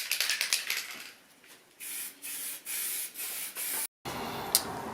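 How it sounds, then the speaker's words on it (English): A spray can laying flat black paint onto a car bonnet in a series of hissing bursts, with several short strokes and then longer sweeping passes separated by brief pauses, close and fairly quiet. "Tried to use long sweeping, as even as possible spray strokes as I could to lay the paint"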